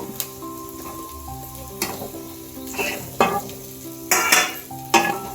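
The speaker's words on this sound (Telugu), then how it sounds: "మెత్తలు వేసి ఇలా వేయించుకొని" Dried fish fry in a pan with chili powder and salt, a steady soft sizzle broken by a few sharp scrapes and clatters of stirring, close by with no talk.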